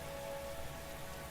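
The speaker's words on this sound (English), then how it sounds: "Raindrops were pelting the rooftop all around me, producing a relentless rhythmic beat." Heavy rain pelting a rooftop in the video game The Hundred Line, a dense, steady hiss of drops filling the whole moment with no voices.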